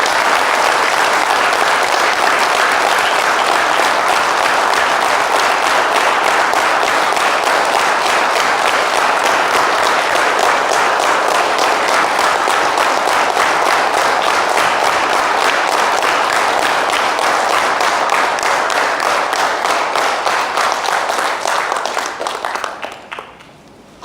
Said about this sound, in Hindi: जोरदार तालियां होनी चाहिए इस बेहतरीन कपल के लिए।